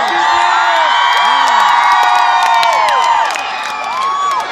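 A concert crowd at Burgas Plaza Mall cheers and shouts loudly, with many high voices whooping and screaming together in a dense, sustained roar close by, easing only slightly near the end.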